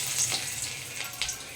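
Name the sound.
chopped garlic frying in hot oil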